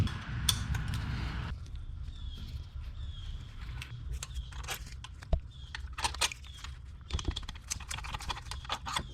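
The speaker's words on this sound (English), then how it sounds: "You just need to use a wrench to get that off." Wrench working a bolt loose on the AC compressor bracket of a Dodge Ram, irregular close metallic clicks and ticks in short bursts, with a dull knock partway through and a low rumble at the start.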